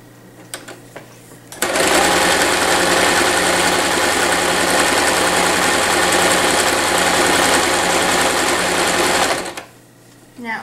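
A sewing machine stitches fabric in one loud continuous run of rapid mechanical whirring lasting about eight seconds, with quieter handling noises before and after.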